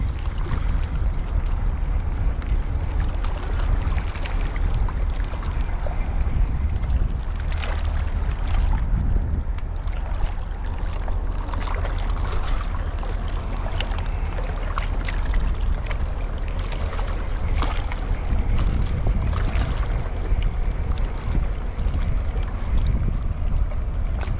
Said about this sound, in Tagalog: Mahangin, yun lang.